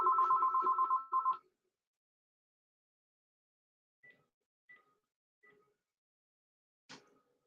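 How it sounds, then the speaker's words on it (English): A telephone rings with a rapid electronic warble burst lasting about a second and a half, followed by a few short faint beeps and a brief click, in a quiet room. "This phone drives me crazy. It don't ring until I'm online."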